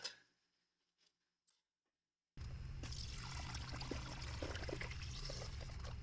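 Liquid solution poured steadily during gold and silver refining, a sustained splashing pour that starts abruptly after near silence and continues close and loud to the end, with faint clinks beforehand.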